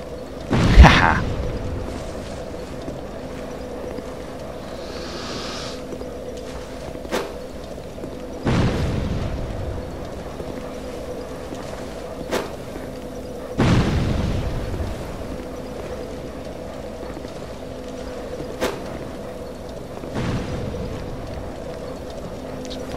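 Heavy mortar explosions in Dark Souls 2 land as separate booming impacts every few seconds, four or five in all, each decaying into a rumble over a steady low drone.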